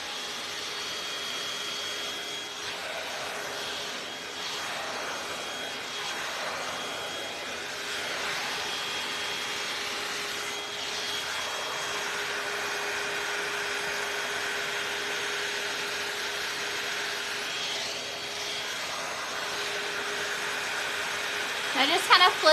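Steady whirring airflow of an L'ange AIRess hot-air brush blow-drying frizz-prone hair, a constant high-pitched motor drone running throughout at moderate level, with no voices over it.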